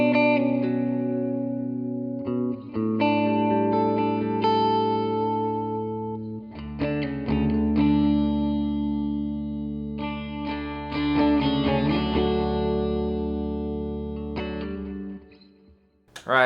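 Clean electric guitar on a single-coil pickup with a delay effect plays sustained chords and ringing arpeggios, notes echoing and decaying between strums, alone and up close.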